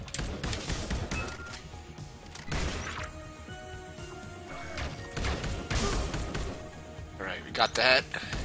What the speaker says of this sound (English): I said you can shoot through these glass walls here.